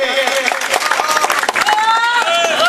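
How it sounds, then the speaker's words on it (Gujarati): Applause and cheering from a crowd at a political rally in Gujarat, continuous and fairly loud for the whole stretch, with voices and shouts mixed into the clapping. "જોરદાર તાળીઓથી"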